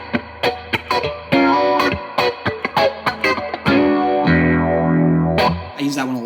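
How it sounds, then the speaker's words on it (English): Electric guitar played through a phaser pedal on a pedalboard, a series of picked notes and chords with a sweeping, swirling tone, loud and close, ringing out alone. "Another one is the phaser."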